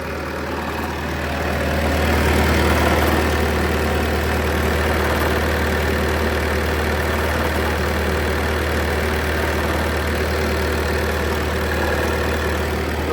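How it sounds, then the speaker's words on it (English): Engine compartment of a 2020 Bobcat T-590 skid steer left open while the diesel engine idles, a loud, steady low rumble with an even mechanical knock running unbroken from start to finish. "We'll go ahead and open up this engine compartment inside here, let you hear this engine running."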